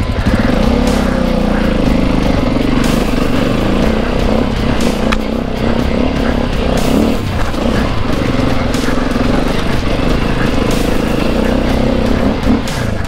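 An enduro motorcycle strains up very difficult, steep off-road terrain in Asturias, its engine droning and revving hard without a break, loud and close throughout.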